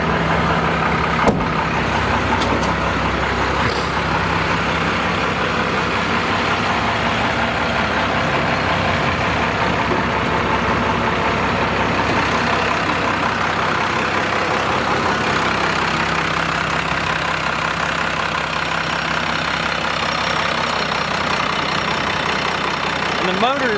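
A warmed-up 1992 Dodge 2500 4x4 truck engine idles steadily close by, a continuous low, even rumble that runs throughout with little change in level.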